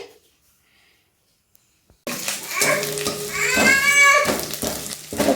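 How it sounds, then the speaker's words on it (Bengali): Onion, ginger and garlic frying in a pan, a steady close sizzle starting abruptly and rising in intensity, with someone talking over it. "পেঁয়াজ আদা রসুন দিয়ে একটু লালচে করে ভেজে নিচ্ছি"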